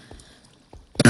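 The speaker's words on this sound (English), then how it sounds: "I have a little bit of a cough too" A single sharp cough bursts out close and loud at the very end, after a near-silent stretch with a few faint soft knocks.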